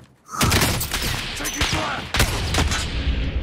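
Rapid gunfire bursts from Call of Duty Warzone, dense overlapping shots ringing out continuously for several seconds after a brief quiet start, loud and close, with occasional heavier thuds mixed in.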